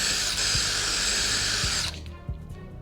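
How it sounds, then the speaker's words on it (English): A power drill whines loudly and steadily as it bores holes into the body of a BMW M3 for mounting emblems, then cuts off, leaving quieter clicks and handling noises. "we're gonna have to drill 2 holes"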